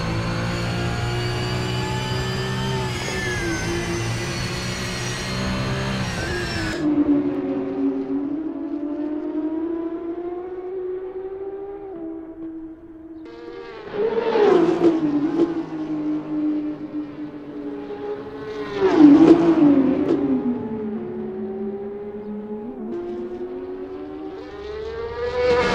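A Porsche 992 GT3 Cup engine on a practice out lap in Assetto Corsa at Imola wails at high revs, then drops to a lower drone that swells twice in sharp rising bursts as it accelerates.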